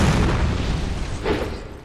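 A bomb explodes in the Dark Souls 2 video game, a dense low rumbling boom that swells briefly and then fades, with no voices.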